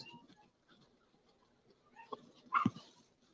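Pet dogs indoors whimper softly at first, then let out a sharp bark near the end, close and fairly quiet overall.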